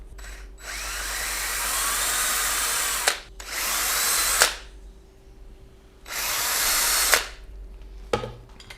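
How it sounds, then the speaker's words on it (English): A power drill drilling alignment-peg holes in wood for a guitar build whirs loudly in three long bursts, each ending in a sharp spin-down, with short quiet gaps and a brief final trigger. "I'm going to drill holes, alignment pegs, alignment pins again."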